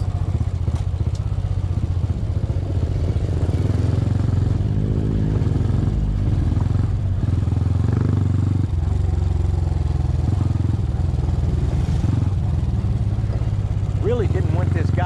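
A Honda CT motorcycle on the move, its engine giving a steady, close, low drone with some light mechanical clatter that lasts the whole stretch without a break.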